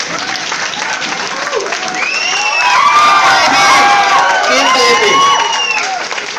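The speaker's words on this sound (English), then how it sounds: "Give a big clap for him." An audience at a party and seminar claps and cheers loudly for a teacher invited onto the stage, with whoops and children's shouts rising over sustained applause and crowd noise.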